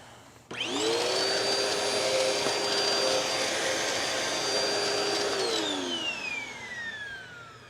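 A Bissell CleanView Swivel upright vacuum cleaner with poor suction switches on with a sharp rise and runs loudly with a steady high whine, then winds down near the end as its pitch falls.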